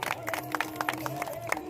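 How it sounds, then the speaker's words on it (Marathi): A crowd applauds at a felicitation ceremony honouring volunteers at the close of a pilgrim dindi procession in Pandharpur, with scattered, uneven claps over a steady tonal hum in the background. "एकदा सगळ्यांनी टाळ्या वाजवा बरं"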